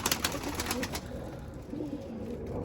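Fancy pigeons, including Arab, double-crested orange and Miski birds, coo softly on a balcony against steady background noise, with a few brief higher chirps early on.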